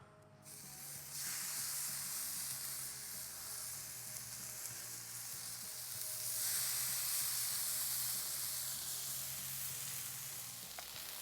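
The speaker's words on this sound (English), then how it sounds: "All right, now it's time to get our burger patties down." Burger patties hit a hot Blackstone griddle already slick with bacon grease and grilled onions, producing a steady close sizzle and crackle that swells louder partway through, with no talking.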